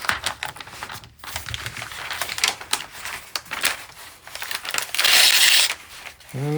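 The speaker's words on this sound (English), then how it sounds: "I'm just going to slide my paper into the slot with the blade." A gift wrap cutter's blade slices through a sheet of wrapping paper, with close, papery crinkling and rustling that swells into a louder, steady hiss of cutting near the end.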